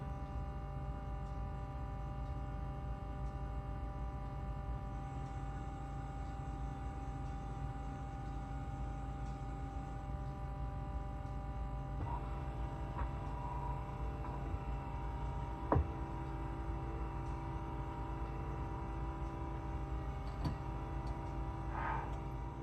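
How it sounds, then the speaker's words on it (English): Vitamix FoodCycler FC-50 food recycler humming at work: a steady, low continuous electric drone with faint ticks and one small click, constant level throughout with no talking. "I'm going to be quiet for a little while so you can listen to it hum."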